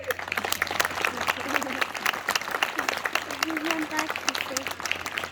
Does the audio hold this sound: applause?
yes